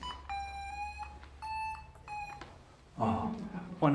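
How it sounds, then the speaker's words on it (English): An alarm beeps in a rapid repeating tone, sounding in three short bursts with gaps between them, followed by a person talking briefly at the end. "Oh, turn that alarm up, can we?"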